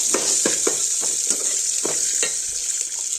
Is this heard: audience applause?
no